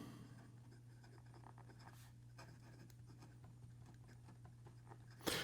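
Fountain pen nib, a fine ebony-bodied Ryan Krusac Legend 16, scratching faintly on paper while writing in reverse, a soft and steady close-up scratch over low background hum.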